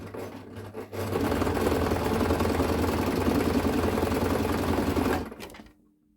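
A sewing machine stitches children's bedding, its motor whirring in a steady close run for about four seconds after a brief start. It then winds down and falls silent.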